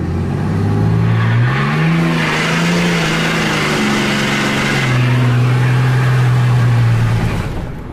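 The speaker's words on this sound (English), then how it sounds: "So it does awesome burnouts." A truck with a billet valve body and the low reverse clutch locked in first gear does a burnout, its engine roaring close and loud, rising in pitch then holding a high, strained wail for several seconds.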